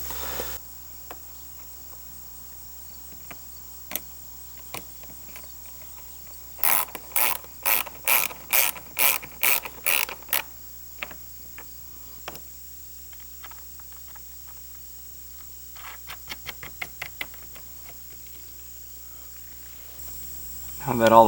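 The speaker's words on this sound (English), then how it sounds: "I'm going to tighten it up a little bit and then remove these long bolts and put the proper bolts in" Ratchet wrench tightening bolts on a large aquaponic greenhouse fish tank, a burst of about eight evenly spaced loud clicks followed later by quicker, fainter clicking runs, with long quiet gaps and a steady background hum.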